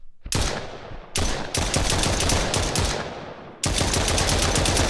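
Automatic gunfire from the video game Pangea Survival aimed at a stegosaurus: three long, loud, rapid-fire bursts separated by short gaps, crisp and close, with no speech over them.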